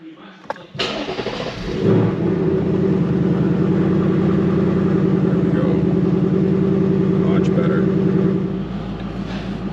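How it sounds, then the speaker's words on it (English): A 2024 Mustang Dark Horse fitted with a Whipple supercharger idles steadily after a brief startup catch, a loud, even engine rumble holding close by for most of the clip before easing off near the end. "Alright, I'm gonna let it idle"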